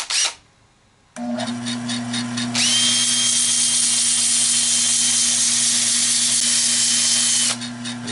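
An oak bowl spins on a wood lathe running in reverse: a click, then a loud motor hum starts, and a harsh, hissing tool cut begins soon after and holds steadily before easing near the end.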